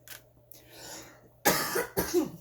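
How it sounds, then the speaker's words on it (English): Two sharp, close coughs in quick succession after a quiet stretch, each a loud burst of breathy noise. "I'm so sorry about the cough."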